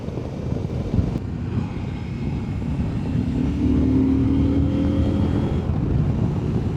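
A CFMOTO motorcycle engine pulls steadily as it accelerates along a twisty road, a continuous close drone with wind rush that rises slightly in pitch and strength toward the end.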